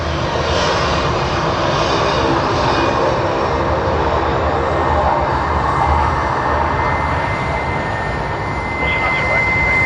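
A Jetstar airliner roars steadily at Sydney Airport, a loud, unbroken jet engine drone that fills the whole stretch without pause.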